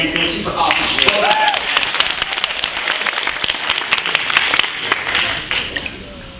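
An audience at a MomoCon 2014 Sonic panel breaks into sustained applause, a dense wash of clapping that holds steady throughout, with a voice briefly heard over it near the start.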